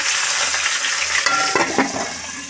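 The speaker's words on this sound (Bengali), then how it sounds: "ঝোলের জন্য ফুলকপি এই যে ভাজতে দিয়ে দিয়েছি" Cauliflower frying in hot oil in a pan, a steady sizzle with spatula stirring and scraping strokes near the end.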